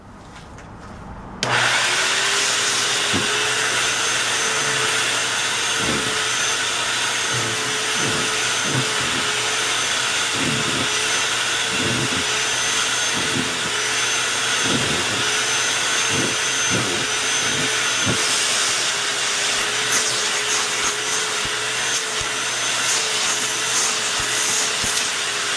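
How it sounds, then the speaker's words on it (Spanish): A repaired Hoover U6252-910 upright vacuum cleaner switches on and runs steadily, sucking hard against a heavy towel, a loud continuous whine and roar with repeated soft rubbing thumps, no talk. "Ahora sí está chupando con bastante presión. Ahora sí quedó como nueva esta aspiradora."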